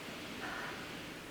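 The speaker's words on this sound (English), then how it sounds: "Okay, this is the white noise." A white noise machine gives off a steady, even hiss that fills the whole moment with no change or pauses, quiet and without any voices.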